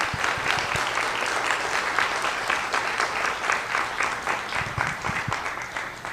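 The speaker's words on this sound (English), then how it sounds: "let's give them all a big round of applause, please." An audience applauds an adult singing group at the end of a community singing event, with steady, dense clapping throughout that fades slightly toward the end.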